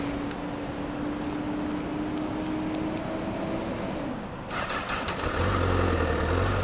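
A warmed-up 2012 Honda CBR1000RR motorcycle is started with a whirring starter, then settles into a low, steady idle that sounds close, even and fairly quiet.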